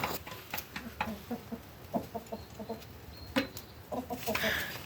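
Dominant breed hens cluck nearby in short, repeated bursts, soft throaty calls amid faint outdoor background noise.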